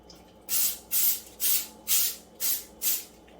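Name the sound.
canola oil cooking spray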